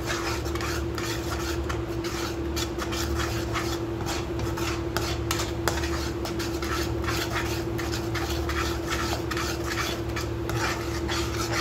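A spoon works steadily through rice pudding with coconut in a pot, making a continuous rubbing, scraping texture with a constant low hum underneath and no voices.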